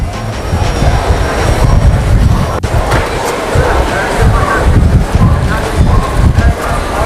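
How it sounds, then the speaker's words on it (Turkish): Heavy wind buffeting a microphone outdoors, a loud, steady low rumble with gusty surges throughout. "Şu an rüzgar var."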